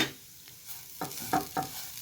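Ivy gourd (dondakaya) fries in a pan in a home kitchen, a soft sizzle broken by a few scraping stirs of a spatula, quiet and close with no talk.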